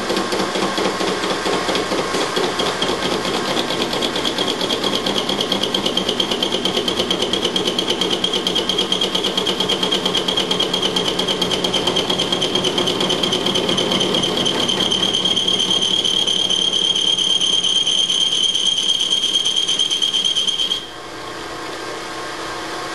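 A machine tool takes a steady, loud cut on a BMW connecting rod, a continuous rattling, grinding drone that runs unbroken for about twenty seconds, then drops to a softer hum as the cut ends.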